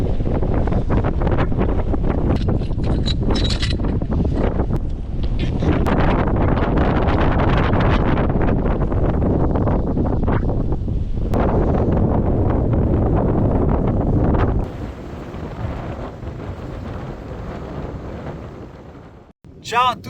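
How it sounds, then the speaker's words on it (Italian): Very strong wind on a rocky sea shore buffets the microphone with loud, roaring gusts for about fifteen seconds, then eases to a lighter, steady rush. "inizio un po' travagliato con un vento fortissimo, molto più del previsto"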